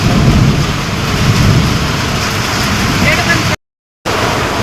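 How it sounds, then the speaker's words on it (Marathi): A dense, steady roar of heavy rain fills the air during a thunderstorm, loud and continuous, with a low rumbling undertone and a brief cut to silence near the end. "हा बघा मित्रांनो पाऊस एवढा चालू आहे भरपूर मोठा पाऊस आला"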